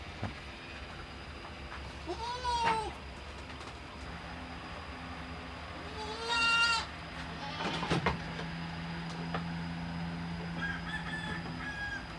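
Dairy goats (Toggenburg and Saanen) at a farm in Loei, Thailand let out two or three distinct bleats, spaced several seconds apart, over steady outdoor farm background noise.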